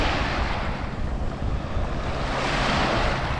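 Fast current on the Colorado River, a steady broad wash of rushing water with wind buffeting the microphone, loud and continuous throughout with no voices.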